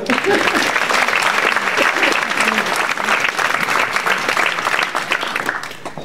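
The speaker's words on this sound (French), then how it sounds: "Eh bien, on t'applaudit à nouveau." Audience applauding at the municipal New Year's wishes ceremony in Nilvange, a loud, dense burst of clapping that carries on steadily and tapers slightly at the end, with voices mixed in.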